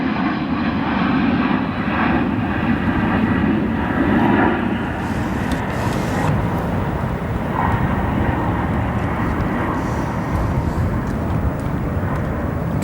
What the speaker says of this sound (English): Looks like a Spirit aircraft, maybe an A320 departing.